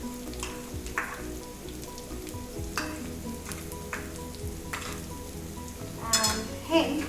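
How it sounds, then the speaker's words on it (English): About a tablespoon of ghee sizzles in a pan for an Indian tadka, a steady soft crackle with small pops and faint stirring clinks throughout. "So I'm starting the tadka for Katachi Amati or kodli. So we're going to start with about a tablespoonful of ghee or clarified butter."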